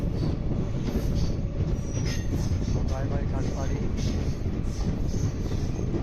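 The West Coast SF Express (train 22637) rolls along the rails with a steady, loud rumble, rhythmic wheel clatter and brief high squeals, heard from on board over faint talk.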